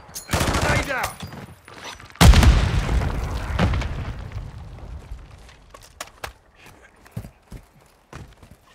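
A grenade detonates in Call of Duty DMZ with a loud, close boom and a long rumbling tail, after an earlier burst and before scattered gunshots, with a voice briefly heard.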